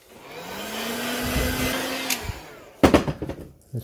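A heat gun blows on freshly painted custom fishing lure for about two and a half seconds, a steady airy roar with a faint rising whine, then cuts off, followed by a few light clatters and handling sounds.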